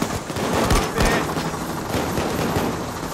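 Rifle gunfire in the heist shooter Payday 2: a dense, loud fusillade of overlapping shots with sharp cracks, continuous across the clip.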